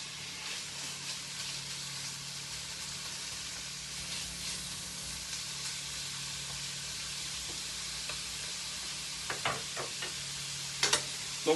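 Meat and shallot frying in a pan make a steady, soft sizzle with occasional stirring scrapes, and a few sharper crackles stand out near the end.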